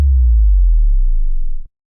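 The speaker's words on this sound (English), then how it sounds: "they're basically a sine wave that starts at a certain pitch and then sweeps down to a lower pitch" A sub drop, a loud pure sine tone for a metal track, sweeps down in pitch. It holds as a deep, steady boom for about a second and a half, then cuts off abruptly.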